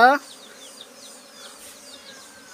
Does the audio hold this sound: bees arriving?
yes